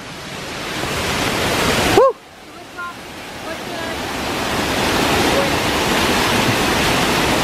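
A waterfall at South Mountains State Park roars in a steady, full wash of white noise, briefly dropping out once while a voice calls over it.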